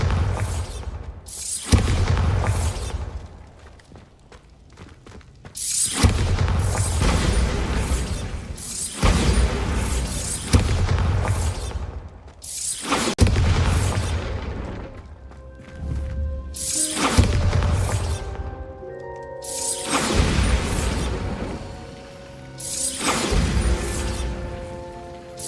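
Repeated Bombarda blasting spells go off in Hogwarts Legacy, about eight loud booming explosions with shattering debris and whooshes, spaced a few seconds apart, each blast decaying before the next.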